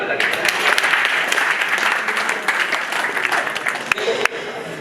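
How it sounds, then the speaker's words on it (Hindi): A seminar audience at an engineering institute breaks into steady, dense applause that carries through the whole stretch, loud and close, ending with a few sharp final claps. "चलो एक बार ताली बजा।"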